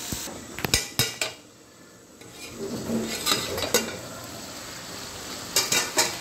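A lid goes onto a pot of potatoes and ridge gourd cooking for aloo posto, with sharp metallic clanks in small bursts near the start, middle and end over a faint low sizzle.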